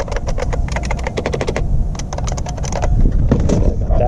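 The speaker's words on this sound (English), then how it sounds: "I got this IBM keyboard, which looks promising." Fingers type rapidly on an IBM computer keyboard, close and loud, a dense run of crisp clicky keystrokes with a short pause near the middle.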